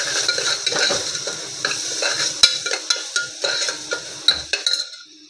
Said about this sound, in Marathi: भाजून घेऊया मसाला तो.